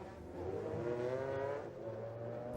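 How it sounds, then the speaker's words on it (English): An Audi race car competes in the 2002 American Le Mans Series round at Trois-Rivieres. Its engine holds a steady, fairly distant droning whine with slight pitch rises and dips as it runs through the street circuit. "And Christensen waits for his moment to pass the Porsche"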